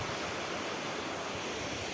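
Machha Kandana waterfall in Mayurbhanj, a steady, faint rush of falling water with no voices or other sounds.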